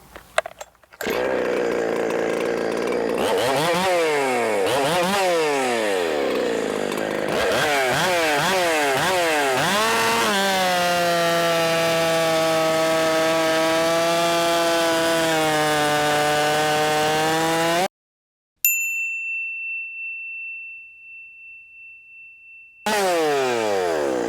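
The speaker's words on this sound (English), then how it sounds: "we're gonna go ahead and do a few cuts with it here and just see how she behaves" A chainsaw with a new C83 chain cuts through wood, revving loudly and steadily as it bites, pitch sweeping up and down under load, then cutting out briefly before starting again.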